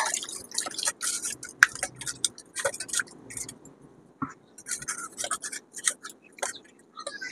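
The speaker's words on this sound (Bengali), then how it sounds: "প্রথমে আমি আমগুলোকে ভালো করে ধুয়ে নেব।" Raw mangoes being rinsed and washed by hand in water, with close, irregular drips, splashes and scrapes that come in bursts and pause briefly near the middle.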